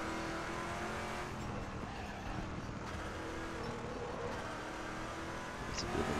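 Race car in the RaceRoom racing game, a steady engine drone at low volume with a faint squeal of tyres mixed in, no talk.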